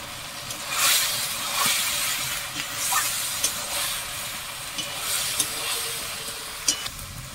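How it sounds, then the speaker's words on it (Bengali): Chilli, cumin and turmeric spice mix frying in a pan for khichuri, giving a steady close hiss with occasional sharper crackles and stirring scrapes throughout. "ভালো করে মশলাটা কষে নেব।"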